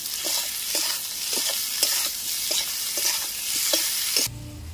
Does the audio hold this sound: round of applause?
no